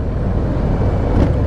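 A 2019 Harley-Davidson FXDR motorcycle engine rumbles loud and close with the throttle, as a deep, steady roar with a slight swell near the end, heavy with wind noise.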